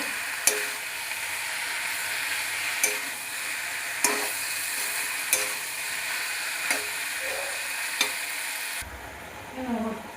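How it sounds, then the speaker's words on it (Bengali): Boiled lau greens being stirred and fried in a pan for chochchori, a steady close sizzle broken by sharp regular scrapes of a spatula every second or so, ending abruptly near the close. "এবার সেদ্ধ করা শাকগুলো মিশিয়ে দেবো। এটাও একটু কষাবো।"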